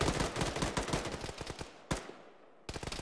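Gunfire in a military shooter video game: dense, rapid automatic bursts and overlapping shots, loud and continuous, then a brief lull with a fading echo before another burst resumes.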